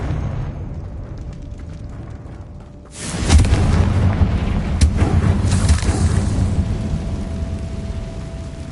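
A Confringo fire curse blasts in Hogwarts Legacy: after a few seconds of quiet low hum, a sudden loud explosion erupts and rolls on as a sustained roaring rumble with crackling bursts, no talking.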